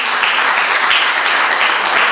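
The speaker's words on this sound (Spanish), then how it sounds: "Dele un aplauso con ganas al que vive y reina." Steady, dense applause from a church congregation during a Spanish-language sermon, sustained and even throughout the short stretch with no voices over it.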